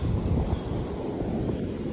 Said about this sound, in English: Pretty windy though, and it's still pretty windy out there now.